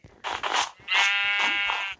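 Sheep in a Minecraft-style game world bleat loudly and close, a couple of short calls followed by a long wavering bleat lasting about a second, with no talk over them.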